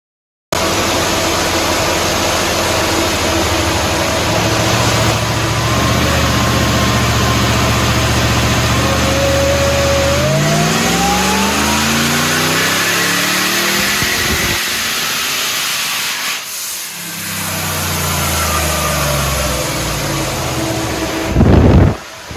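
A tuned Nissan Y62 Patrol engine on a dyno, revving hard with a steady loud roar and a rising then falling pitch sweep, a brief lull near the end, and a whine from a cooling fan beneath it.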